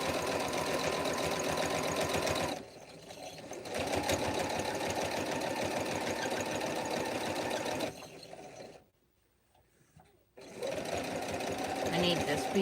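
Long-arm quilting sewing machine stitching a ghost pillow, running in a fast steady rattle with a few brief pauses and one near-silent stop before starting up again.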